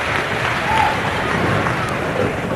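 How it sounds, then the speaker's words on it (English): Applause from the crowd at the 1995 PBA Players Championship in bowling, steady dense clapping mixed with general hubbub that holds at an even level throughout. "Crowd reaction, they're alive here tonight"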